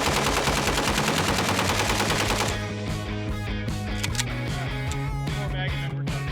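A reproduction AKS-74U rifle fires loud, sustained automatic bursts in a dense, rapid rattle of shots that runs through the whole stretch, with no talking.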